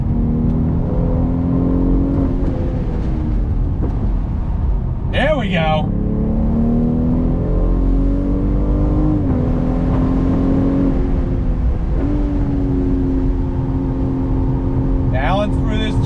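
A BMW M440i convertible accelerates hard on throttle, its engine note climbing loud and close with a brief shift dip midway, while a driver speaks over it.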